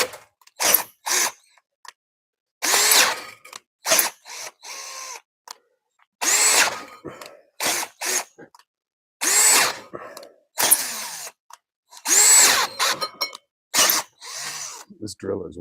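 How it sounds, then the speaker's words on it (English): A power drill, used without the clutch, whirs in repeated bursts separated by short pauses, each burst straining harder. It sounds close and loud, with speech between some bursts. "This drill is working"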